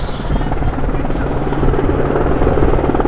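A Sea King helicopter drones steadily overhead at an air festival, its rotor thrumming loud and continuous with a deep, pulsing whine throughout.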